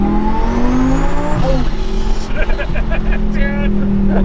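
An 800-wheel-horsepower Heffner twin-turbo Lamborghini Gallardo accelerates hard, its engine note rising and sweeping through gear changes, loud and close, with people talking over it.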